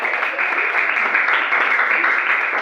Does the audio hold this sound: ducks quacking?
no